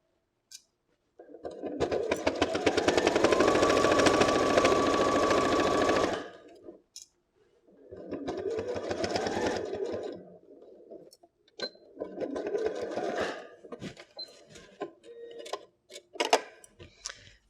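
A sewing machine stitches a seam on a fabric phone case in three close bursts, a long rapid run followed by two shorter ones, with scattered clicks between and no voices.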